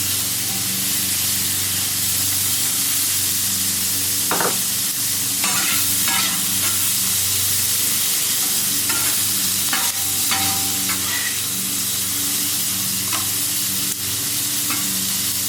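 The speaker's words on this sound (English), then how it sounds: "Let's sweat these vegetables down kind of slow." Vegetables sweat in butter on a Camp Chef FTG600 flat top grill, giving a steady, close sizzle and hiss with a few scraping stirs of a utensil and no talk.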